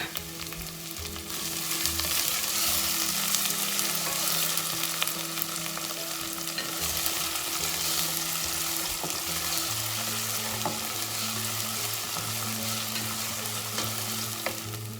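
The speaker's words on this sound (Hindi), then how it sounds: "लहसुन और प्याज सौते हो चुके हैं।" Vigorous, continuous sizzling of garlic and onions frying in a pan, close and loud, with occasional stirring scrapes throughout.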